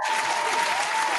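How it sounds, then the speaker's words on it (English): A short, dense round of applause from a group, the clapping steady and fairly close throughout with a thin tone running underneath. "the round of applause for that"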